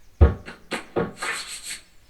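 Children rub their hands together in a Year 4 body percussion music lesson, making a few short, soft swishing strokes after some thumps, close and without talk.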